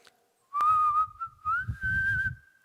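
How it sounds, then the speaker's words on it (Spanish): A person whistles a single sustained, gently wavering note into a microphone fitted with a foam pop filter, close and fairly loud, with breathy gusts underneath as the tone slides slightly upward and holds. "Yo puedo silbar."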